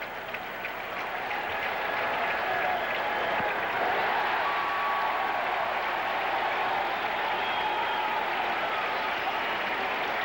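A ballpark crowd at a Cincinnati Reds at New York Mets baseball game cheers as the pitcher reaches two strikes on Mario Soto, a steady distant roar of voices and applause sustained throughout.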